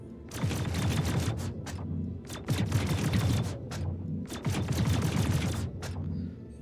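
Vanguard Warden ship guns in Star Citizen firing heavy projectiles at about ten rounds a second: three long bursts of rapid, sharp, loud shots with brief pauses between them, no talk.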